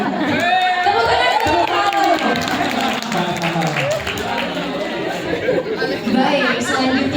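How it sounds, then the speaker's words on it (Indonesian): Audience applause at a company anniversary celebration, a crowd clapping and chattering together, loud and continuous with voices mixed in throughout. "Tepuk tangan."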